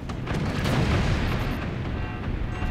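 Artillery fires on an enemy fort in the strategy game Forts, a continuous loud rumbling boom with dense blast noise sustained throughout.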